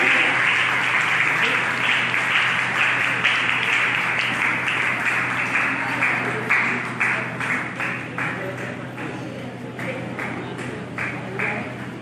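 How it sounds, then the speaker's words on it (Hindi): Audience applause at a Guru Purnima gathering honoring a pandit, a dense steady clapping that carries on for several seconds before gradually thinning into scattered claps, with a low steady hum underneath. "पंडित जी सबको तालियां बजवाते हैं"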